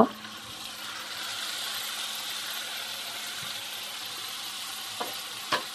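Marinated chicken fries in a pan with a steady, soft sizzle throughout, broken by a couple of faint utensil clinks toward the end.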